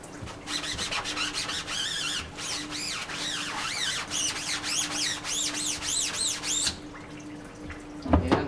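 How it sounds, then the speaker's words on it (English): Water rinses a part of an offset printing press during an on-press wash, running as a steady splashing and scrubbing stream near the mic that breaks off toward the end with a few final knocks. "And we'll give it a final rinse."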